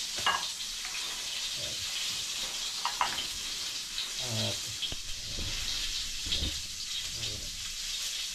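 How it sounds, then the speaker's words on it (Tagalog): Tomatoes frying in a pan in a home kitchen, a steady sizzle and hiss with occasional stirring scrapes and small clinks, heard close and alone without talk. "Yung kamatis na lang ating piniprito."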